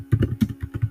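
Quick bursts of typing on a computer keyboard, several close, crisp key clicks in an uneven rhythm, heard alone without talking.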